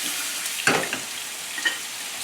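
Sesame-crusted tuna sears in a hot pan with a steady, close sizzle and a couple of brief sharper crackles, no voices.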